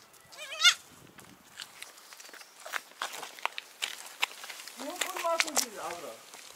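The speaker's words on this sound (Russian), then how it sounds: "Маленький козел." In Uzbekistan, a young goat bleats loudly nearby, then gives a longer series of bleats a few seconds later. Footsteps, rustling and faint voices can be heard in the background.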